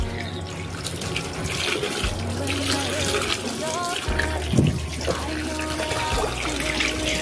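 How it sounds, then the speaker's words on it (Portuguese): Clothes are rinsed by hand in water at a sink, a steady running-tap flow with splashing and sloshing, close and continuous over a low hum. "Agora só tô enxaguando e depois vou colocar na, na água com amaciante."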